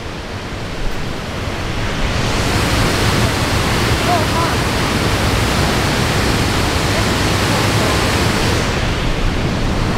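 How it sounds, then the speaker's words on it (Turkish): The large Palovit waterfall in Rize, Turkey roars steadily: a loud, constant broadband rush of falling water, close and unbroken, with no talk. "Ama şelale büyük."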